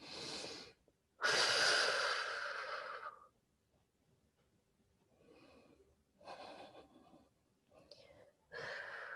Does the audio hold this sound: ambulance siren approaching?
no